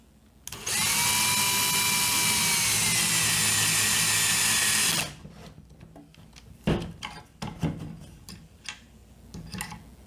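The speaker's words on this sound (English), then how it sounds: "we're going to drill these last two in" A power drill whines steadily for about four seconds, driving a screw into a wooden mid-century chest, then stops, followed by scattered clicks and light handling knocks.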